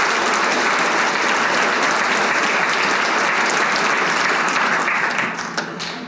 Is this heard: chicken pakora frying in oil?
no